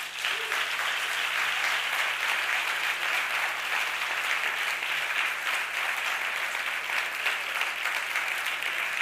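Steady, even applause from an audience at the CREAR 2023 awards ceremony, a continuous mid-level patter of many hands with a faint low hum beneath, unbroken and without speech.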